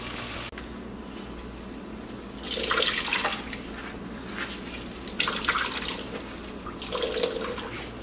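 Water is wrung out of grated cauliflower through cheesecloth for kimchi cauliflower fried rice, giving three bursts of trickling, splashing liquid, each lasting about a second, over a steady low background hum.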